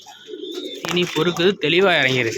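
Pigeons kept for sale give a low cooing that is soon overlapped by someone speaking Tamil, the bird calls sitting close and under his talk.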